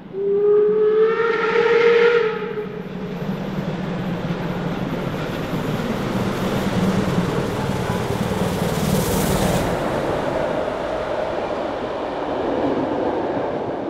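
The Meininger 50 3501 steam locomotive sounds a loud whistle, then runs past with a steady rumble and clatter of the train, heard outdoors near Hönebach at a 2012 steam locomotive event.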